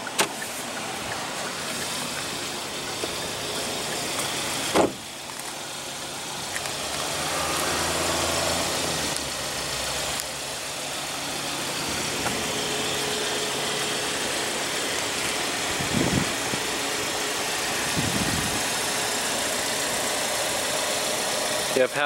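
A 2015 Hyundai Sonata's 2.4 L four-cylinder engine idles with its hood open, a quiet steady hum broken by a few clicks and thumps nearby.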